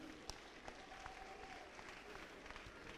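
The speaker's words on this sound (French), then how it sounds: "Mais vous pouvez applaudir pour ce sapeur" Crowd applause at a mourning gathering, a faint, continuous patter of many hands clapping at a distance, with a few sharper claps standing out.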